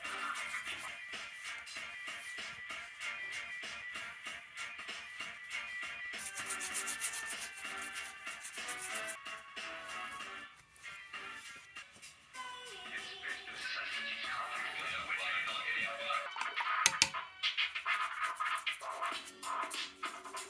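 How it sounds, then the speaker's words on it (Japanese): Rough, steady scrubbing of fresh plaster with a bath toothbrush, cleaning smeared grout-like filler before it fully sets on a spring evening; continuous close brushing and rubbing strokes with shifting pitch, no talk. "固まりきる前にお風呂の歯ブラシですね、それでちょっと磨いて"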